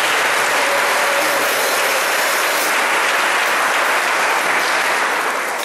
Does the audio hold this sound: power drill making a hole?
no